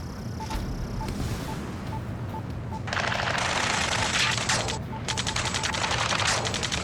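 Sustained automatic gunfire in the Ace Combat 7 campaign, rapid rattling bursts that kick in midway and continue under game ambience with a brief gap, following a steady beeping tone.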